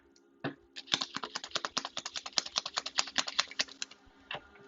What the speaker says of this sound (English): I'm going to just flip through the deck real quick